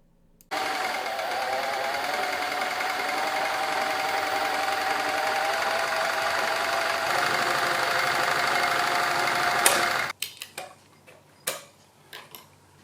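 An industrial sewing machine stitches upholstery for Honda S2000 seats in a dense, fast mechanical chatter for about ten seconds, loud and close, then stops, leaving a few clicks and knocks.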